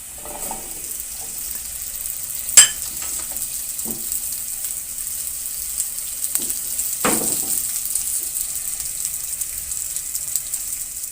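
Okra frying lightly in oil in a frying pan gives a steady, soft sizzle, broken by a few sharper pops and metallic clinks, with no talking.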